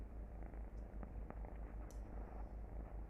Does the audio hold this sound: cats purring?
yes